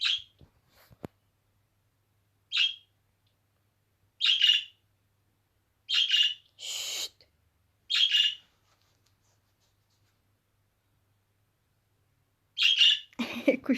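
A pet bird squawks sharply several times in short, separate bursts with quiet gaps between, loud and close, ending in a harsher, rougher call.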